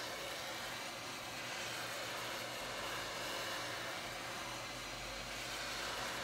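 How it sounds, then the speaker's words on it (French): A constant blowing hiss of hot air from a heat gun softening adhesive on an iPhone 7 Plus, even and unbroken for several seconds, with a faint low hum underneath. "Donc avec un décapeur thermique ou un sèche-cheveux"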